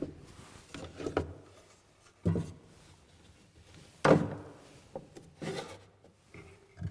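Wooden drawers of an antique cabinet with columns and gilded bronze mounts slide open and shut, four separate rubbing scrapes ending in dull thunks, close and quiet with no talking.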